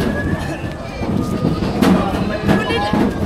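Goats at a livestock market bleating over a crowd, with a couple of short, wavering calls near the middle and end of the clip under steady chatter.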